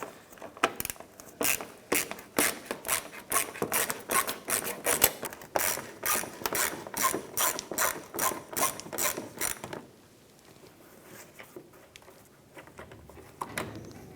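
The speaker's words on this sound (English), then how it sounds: "Using a 7mm socket, I'm going to start by removing these two screws right here." A ratchet with a 7mm socket clicks rapidly in fast repeated bursts while backing out screws on a 2006-2013 Chevrolet Impala, close and crisp, then stops, leaving quiet handling noise.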